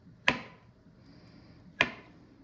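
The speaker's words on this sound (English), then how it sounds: "So I have all my avocados almost diced" A knife dicing avocados for a salad on a cutting board, two crisp separate chops about a second and a half apart, close and clear in a quiet room.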